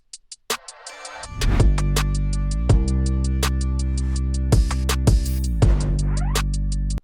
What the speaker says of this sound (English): So all the drums put together with the bass line sound something like this.